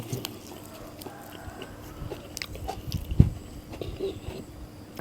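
Someone bites into and chews a Vietnamese balut duck egg, giving soft, irregular crunching and wet chewing sounds up close, with one sharper bite partway through.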